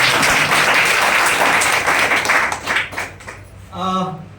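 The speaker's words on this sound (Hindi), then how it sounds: "एक बार जोरदार ताली आरसीएम के नाम पे।" A seated audience at an RCM business meeting applauds loudly in a sustained, dense wash of clapping that fades toward the end as a voice begins over it.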